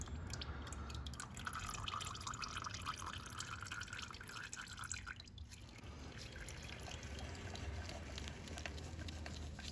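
Engine oil draining from a Yamaha YFZ 450 ATV, a steady close trickle and patter of liquid into a pan, no talking.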